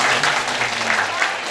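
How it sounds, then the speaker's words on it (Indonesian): Audience applause at a live insurance financial-literacy event, a short burst of dense clapping from a crowd, fairly loud and steady, with a faint hum beneath. "Tepuk tangan dulu buat Ismu"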